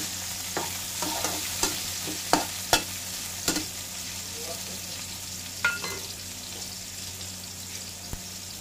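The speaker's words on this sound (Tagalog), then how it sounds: "I-brown natin ito ng kaunti" Beef tripe fries with grated ginger for paklay, a low steady sizzle under close, irregular clacks and scrapes of a utensil stirring the pan, with a few sharper knocks and no speech.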